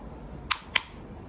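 Two crisp, close hand claps from one person, spaced about a quarter second apart, with no voice, during a tarot reading.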